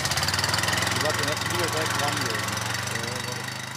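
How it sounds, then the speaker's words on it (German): A tractor-drawn lamb's lettuce planting machine on a prepared field runs with a steady, loud engine drone and low rumbling vibration; voices are faintly mixed in. "Zeit, die Feldsalat-Pflanzmaschine in Gang zu kriegen."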